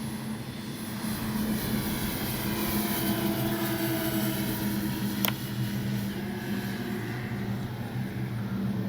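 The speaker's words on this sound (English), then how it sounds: "Boy, that is a beautiful plane coming at us there." A B-25 propeller bomber in a flight simulator drones steadily overhead, its engine hum swelling slightly as it passes close by, loud and continuous with no voices.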